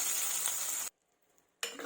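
Tempering sizzles loudly as it is poured into dal, a sharp hissing crackle that cuts off abruptly, pauses in near silence, then bursts back in.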